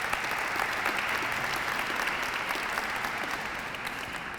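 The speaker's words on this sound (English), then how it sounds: "So let's give him another round of applause." An audience at a Breast Cancer Awareness luncheon in Cleveland gives a full round of steady, sustained clapping that tapers slightly at the close.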